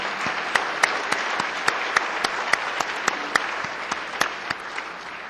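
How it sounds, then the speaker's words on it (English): An audience at an MLK Day celebration applauds for nominees, a steady sustained clapping with a few sharp, close individual claps standing out above the crowd. "Could we have an applause for them,"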